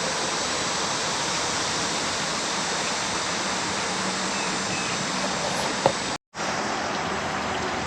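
Creek water wells out from under the ground beside mossy rocks in a wildlife refuge, a steady, loud rushing wash with no break except a brief dropout near the end.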